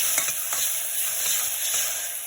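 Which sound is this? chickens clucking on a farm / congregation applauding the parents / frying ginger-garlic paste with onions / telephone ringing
frying ginger-garlic paste with onions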